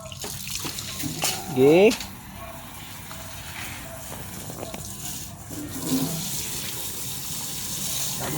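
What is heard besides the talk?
water running from tap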